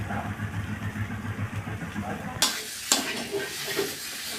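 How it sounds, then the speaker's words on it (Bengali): Banana flower and prawn curry with garam masala is stirred in a pan, giving a low simmering bubble with two sharp spatula clacks midway and a faint murmur of talk early on. "গরম মশলা দিয়ে একটু নেড়ে চেড়ে নিয়েছি"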